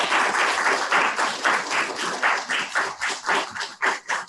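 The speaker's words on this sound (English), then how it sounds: "So you all should be applauded for that amazing job" Audience at a university debate applauding the debaters, a steady, fairly close wave of hand clapping with distinct individual claps that pulses and tapers slightly toward the end.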